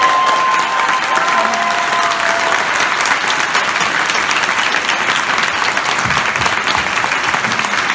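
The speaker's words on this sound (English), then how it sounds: "A big, massive round of applause." Audience applause fills a hall at KupoCon, a fan convention, as a dense, loud, sustained clapping from a large crowd that continues evenly throughout.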